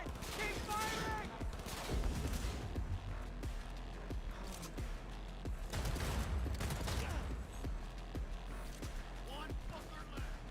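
Rapid gunfire from the video game Cyberpunk 2077, bursts of shots cracking repeatedly over dense combat noise, with voices shouting in places.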